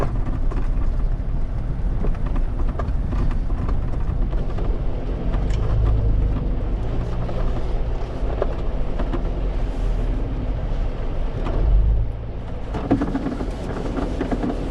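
A Jeep drives along a Death Valley road with the engine running warm, a heavy, continuous low rumble of engine and road noise with wind buffeting, steady throughout with a few louder surges.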